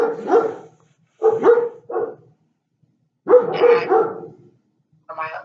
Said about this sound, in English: sorry for all that like dog barking in the background